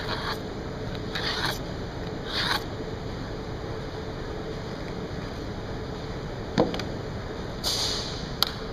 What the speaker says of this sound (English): I'm going to cut again on that score line.